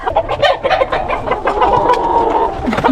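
Roosters and hens cluck loudly and close by in a coop in Pereira, Colombia, in rapid overlapping bursts with no voices.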